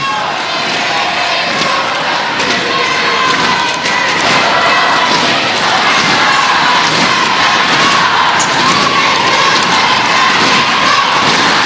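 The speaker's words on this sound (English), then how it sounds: "the crowd is going wild at the moment at the Dwara Stadium, largely for Malaysia" A packed arena crowd at a Malaysia versus Singapore netball final at Dwara Stadium roars continuously and loudly, a dense wall of cheering and shouting that never lets up.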